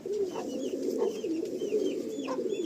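A male Madrasi pigeon of an old line coos in low, throaty rolling phrases, close and steady, repeating several times with no voices over it.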